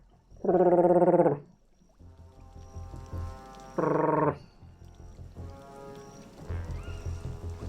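Two short, loud guttural growls from a human voice imitating Chewbacca, deep and harmonic, each about a second long, with quieter rustling between them.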